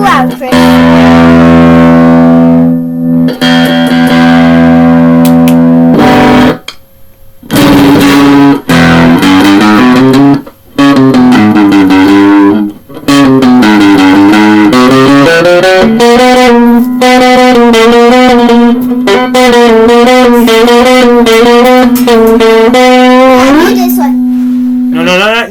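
An electric guitar is played with heavy distortion. Loud sustained notes bend and slide with a buzzing, harmonic-rich tone, broken by a few brief gaps.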